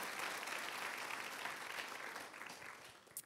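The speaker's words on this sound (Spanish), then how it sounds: "Aplaudámosle con gratitud a Él, por favor." Church congregation applauding together in a steady, sustained wash of clapping that carries on for a few seconds before easing off slightly at the end.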